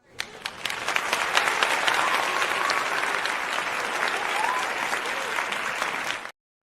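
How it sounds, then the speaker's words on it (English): A live audience roaring and applauding as a co-host comes on stage, dense steady clapping with scattered cheers that rises quickly, holds for about six seconds and then cuts off abruptly. "And the crowd roars."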